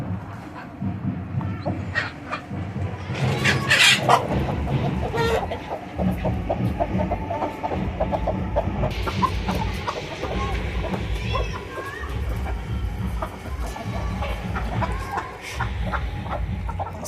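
Medak breed hens cluck and chatter in a yard, with soft overlapping calls and a louder squawk near the start, a dog faintly in the background and some low talk.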